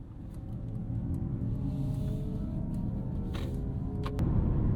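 A 2025 Mercedes-AMG GLC 63 S E Performance with a 2-liter four-cylinder hybrid engine drives along, a steady low engine drone and road rumble heard from inside the cabin, swelling slightly near the end.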